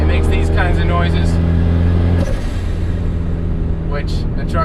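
A turbocharged Honda Accord under way, a loud engine hum and rumble from inside the cabin that shifts in pitch partway through, with faint chirps and whooshes on top.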